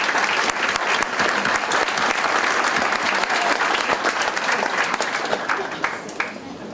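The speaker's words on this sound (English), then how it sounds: "Please give him a round of applause" Loud, sustained applause from a gathered crowd at an outdoor university groundbreaking ceremony, many hands clapping densely and evenly before thinning slightly near the end, close and full.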